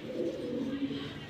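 Pigeons, including a hen, coo softly nearby in a short, low, rolling burst that stands alone without speech.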